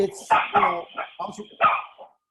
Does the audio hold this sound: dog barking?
yes